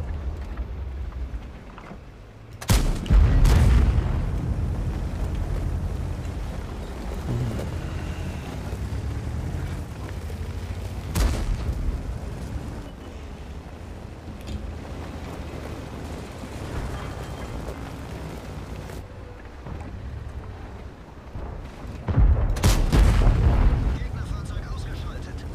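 Heavy tank cannon shots boom in World of Tanks gameplay, three big deep blasts spaced several seconds apart with rumbling engine and battle noise between them, a voice talking over parts of it.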